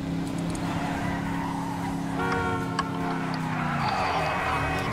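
A car driven in the video game GTA Online, its steady engine drone filling the clip with a pitch shift partway through, and some faint tire noise mixed in.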